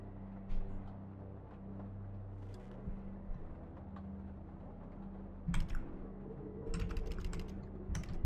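Typing on a keyboard, scattered clicks and short bursts of keystrokes over a low steady hum, close and fairly quiet, with a busier flurry of taps near the end.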